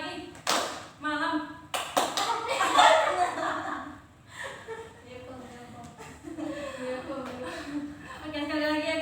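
Group clapping game in a group counseling session: several sharp claps in uneven bursts, mixed with chanting voices and light laughter from the participants.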